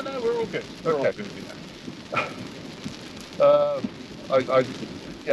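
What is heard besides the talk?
rain storm heard while driving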